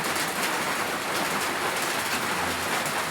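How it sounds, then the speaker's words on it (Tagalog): Heavy rain pours down steadily, a dense hiss of drops on surfaces that stays even and unbroken for the few seconds heard. "Dito po sobrang lakas ng ulan."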